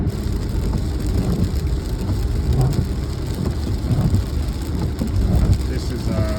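Steady rain and road noise inside a car driving through New York City on a rainy Saturday morning, a continuous broadband wash with faint droplet ticks throughout.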